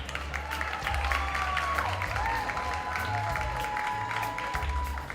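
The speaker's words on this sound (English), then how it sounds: "Man, you can clap them, man." An audience at a performing arts awards ceremony applauds a high school nominee, moderate clapping and some crowd noise spread over several seconds, mixed with a low background hum.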